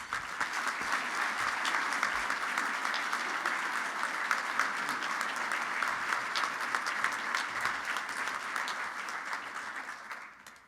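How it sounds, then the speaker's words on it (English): Audience at a regional assembly awards ceremony applauding leadership award recipients, a sustained dense wash of clapping from a large crowd that holds steady for about ten seconds before tapering at the end. "Let's give another round of applause for our 2024 Regional Leadership Award recipients."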